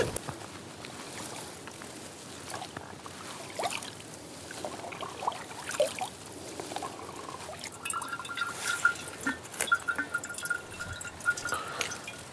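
Water drips and trickles intermittently through a gravity filter in a quiet forest setting, with irregular small drops and faint splashes throughout.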